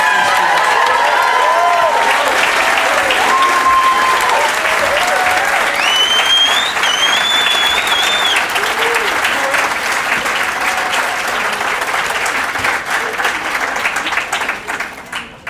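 Loud, sustained applause from a large crowd at a university alumni commencement for Masters graduates of 2020 and 2021, dense steady clapping with a few cheers and whistles, gradually thinning toward the end.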